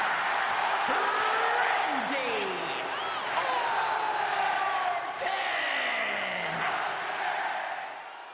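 An arena crowd in WWE 2K26 roars and yells continuously for Randy Orton's entrance, with whoops rising above the steady din before it fades at the end.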